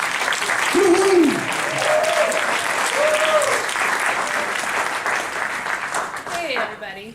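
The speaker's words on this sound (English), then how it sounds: "Let's give her a round of applause." An audience claps loudly and steadily at a workshop gathering, dense applause running throughout with a few voices calling out and cheering over it before it thins at the end.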